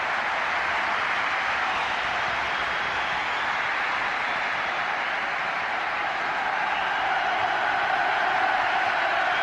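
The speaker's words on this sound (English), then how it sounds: "The noise from the crowd is because David Beckham is trotting across to their corner to take this" Steady roar of a football stadium crowd at a 1999–2000 Premier League match between Manchester United and West Ham, a broad continuous hum of thousands of fans, even in level throughout without distinct chants or commentary.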